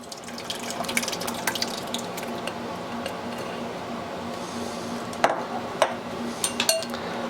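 Liquid from mashed dates pours and trickles through a strainer into a saucepan in a home kitchen, a steady close watery splash with a few sharp clinks of utensils against metal near the end.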